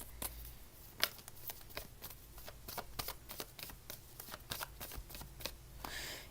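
Tarot cards being shuffled and pulled, a quick close patter of crisp riffling snaps in steady bursts, quiet and with no talk.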